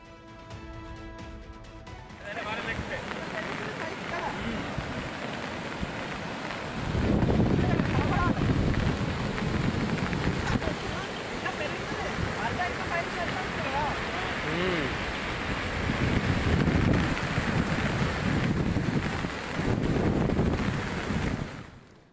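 A swollen stream rushes fiercely along a flooded road to Bodlanka in Y. Ramavaram mandal amid heavy rain: a continuous roar of surging water mixed with strong wind buffeting the microphone, swelling louder in waves.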